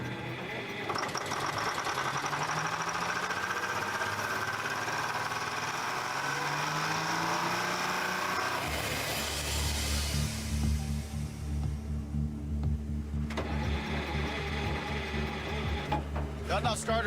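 An old engine cranking on its starter and failing to catch, a steady whirring, grinding churn that shifts pitch partway through and continues unbroken throughout.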